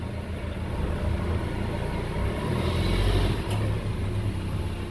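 Suzuki Ertiga fitted with an iForce unit reversing slowly with no throttle, its engine idling in a low, steady rumble that swells briefly near the end, close and fairly loud.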